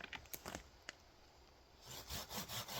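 Hand saw cutting through dry wood at an overnight camp in the rain, with quiet rhythmic rasping strokes, irregular at first and then settling into steady back-and-forth pulls.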